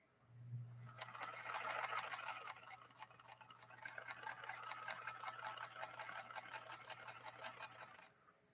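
A Singer 222K Featherweight sewing machine runs smoothly for about seven seconds, a quiet, even series of rapid light ticks over a soft low motor hum, close and gentle, with no voices.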